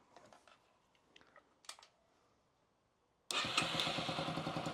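A Yamaha XT motorcycle left standing for 12 years, its engine turned over and fired. Faint clicks and rattles come first, then a loud, close, rough idle kicks in abruptly.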